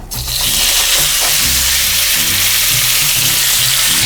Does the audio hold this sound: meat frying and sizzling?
yes